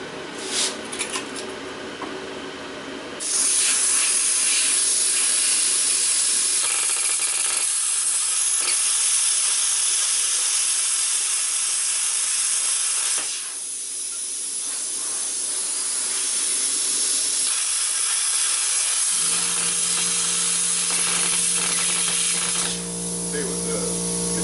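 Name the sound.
Lotos LTP5000D plasma cutter cutting thin aluminum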